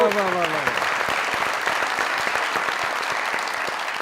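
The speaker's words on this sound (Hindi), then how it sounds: "ऐसे भाई के लिए तालियां यार" A studio audience at a television show breaks into loud, sustained applause for a brother, dense clapping filling the whole stretch with crowd noise, a brief voice at the start.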